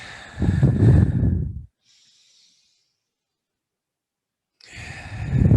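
A long, breathy exhale comes close up during a gentle yoga cat-cow stretch. After a silent pause, another slow breath begins.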